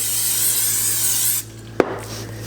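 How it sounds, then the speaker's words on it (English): A steady hiss of olive oil cooking spray close by, coating pizza dough, stopping abruptly, followed by a single sharp tap. "I like to spray mine with the olive oil spray"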